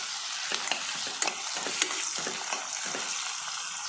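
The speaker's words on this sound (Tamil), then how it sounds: "இதில் வெங்காயத்தை சேர்த்துக்கலாம்" Onions frying in a pan for vegetable pulao, with a steady sizzle and repeated stirring scrapes at a moderate level throughout.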